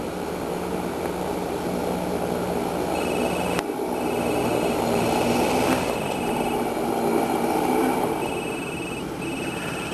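Small light airplane on a landing approach: a steady, loud engine drone with broadband wind and cabin rush throughout, plus a couple of brief clunks partway through.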